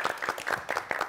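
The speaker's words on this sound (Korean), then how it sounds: "박수 한번 주십시오." An audience applauds at a televised trot music show, giving a brief, moderately faint burst of scattered rhythmic clapping.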